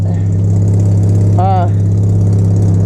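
A car engine idles loudly and steadily with a low, even drone and puttering from a vacuum leak, briefly joined by a short voice.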